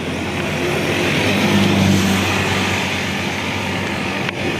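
A motorcycle engine runs steadily on a road trip in Occidental Mindoro heading toward Sablayan, its loud continuous drone holding throughout with a slight rise in the middle and wind noise over it.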